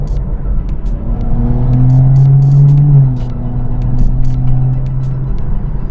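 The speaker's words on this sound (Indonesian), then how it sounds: "Ini seperti saya sekarang ngegas ya." A BMW 435i coupe with an AW Tuning exhaust, in sport mode, revs up with a deep rising drone that swells, holds and falls away as heard from inside the cabin, with light clicks scattered over it.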